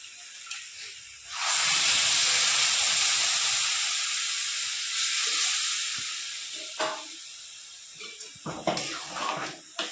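Water poured into a hot pan of fried potato and taro, bursting into a loud steaming hiss that slowly fades, followed by scattered stirring clatter nearby.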